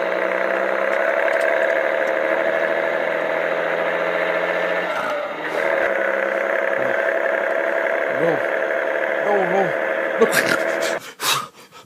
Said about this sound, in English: That's a 1946 D-line John Deere with a 501 cubic inch engine.